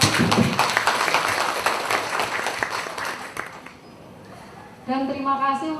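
Audience applause for the cooperative office at a knitting training session, a dense burst of clapping for about four seconds that then fades, with a voice speaking over the end.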